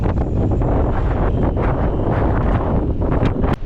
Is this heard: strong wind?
yes